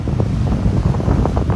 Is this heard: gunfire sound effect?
no